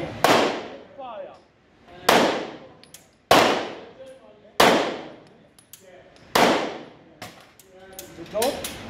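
Single Glock pistol shots fired at a target, six sharp loud cracks spaced roughly a second or more apart, each followed by a brief ringing decay, close by with no talk between them.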